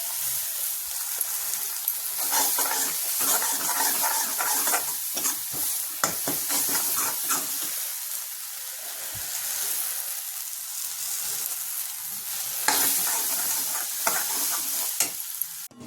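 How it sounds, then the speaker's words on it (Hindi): Masala of onion, garlic and green chili sizzles and fries steadily in a pan, with frequent scraping stirs and crackling spatters running close and continuous throughout. "यहाँ देखिए हमारा मसाला फ्राई हो गया अच्छे से।"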